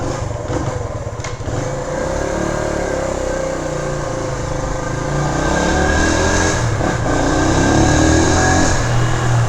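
A 1972 Honda SL100 motorcycle, a small single-cylinder bike, is ridden and shifted through its gears. The engine note holds steady and close throughout, loud and buzzy, with no speech over it.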